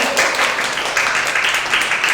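Audience applause at the close of a lecture on the future of jobs, a steady, dense wash of many hands clapping throughout, loud and even.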